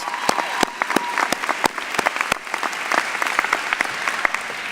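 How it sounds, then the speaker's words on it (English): An audience at a business school commencement ceremony applauds an award recipient, with scattered sharp individual claps standing out over a steady background of clapping from the crowd. "Please join me in a round of applause."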